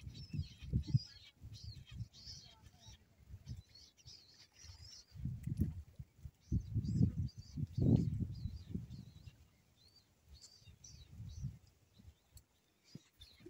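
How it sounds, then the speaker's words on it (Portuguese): Birds chirp softly and repeatedly in a tree at a nest where a mother feeds her chicks, the faint high calls sounding over close murmured talk and handling noise near a reservoir in Acari, Rio Grande do Norte. "Um ninho de pássaro, a mãe dando comida aos pássaros, aos bebezinhos,"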